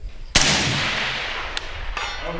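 A single sharp rifle shot at 550 yards, fired with Ultradyne C4 sights, loud and close, followed by a long reverberating tail and a faint distant ping of impact.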